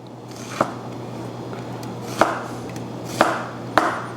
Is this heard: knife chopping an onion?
yes